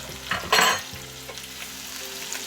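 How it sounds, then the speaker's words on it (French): Chopped vegetables and garlic frying together over low heat in a pan for a chicken moambe sauce, a soft steady sizzle with one brief louder hiss and a few faint clinks of stirring. "Je les laisse frire à feu doux ensemble quelques minutes avant de pouvoir mettre ma tomate."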